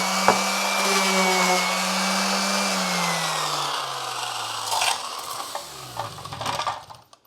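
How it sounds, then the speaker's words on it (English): A power sander, probably an orbital type, works over the wood openings of a homemade carpenter bee trap. It gives a steady loud whine for about five seconds, then winds down and stops, with a few light knocks and scrapes at the end. "you can hit these openings with the sander"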